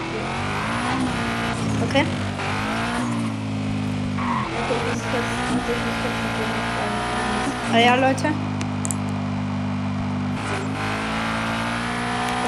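Koenigsegg Regera race car engine in a video game, a steady droning engine tone with shifting revs and brief tire squeals, running continuously under people talking in German.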